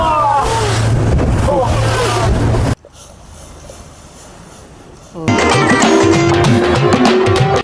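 A motorboat arrives at the beach in Penang National Park, its engine roaring loudly under wind buffeting. Partway through there is a quieter stretch, then the engine noise returns strongly, and people talk over it.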